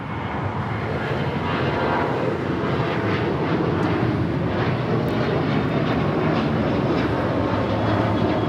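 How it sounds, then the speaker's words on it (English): An Alaska Airlines Boeing 737-800 takes off at Los Angeles airport, a loud, continuous jet roar and rumble holding steady from start to finish with no voices. "This is Alaska Airlines 127 taking off to Seattle on the 737-800."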